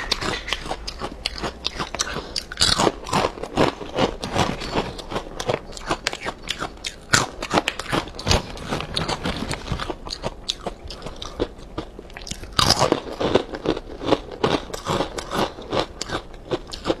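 Someone eats a very crispy, spicy snack up close, with rapid, loud crunching bites and chewing repeating steadily throughout, no talking.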